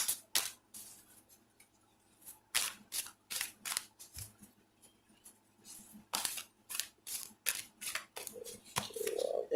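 A deck of tarot-style cards is shuffled by hand in repeated quick bursts of riffling and slapping, close and crisp, with short pauses between rounds and no talking.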